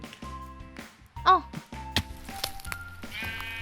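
Sheep bleating in the video game Minecraft, one clear wavering bleat standing out amid game music and clicking sounds, with a voice talking around it.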